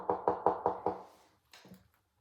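Five quick, sharp knocks in a steady run, close and loud, then a short pause and a softer pair of knocks, heard alone in a storytelling of an old Halloween folk tale about the Conjure Wives.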